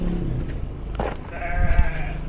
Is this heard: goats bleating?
yes